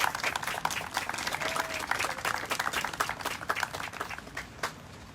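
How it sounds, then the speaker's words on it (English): An audience at an Armed Forces dedication ceremony applauds the 484th Army Ceremonial Band, a dense burst of many hands clapping that thins out and fades toward the end. "Would you please express your appreciation with applause?"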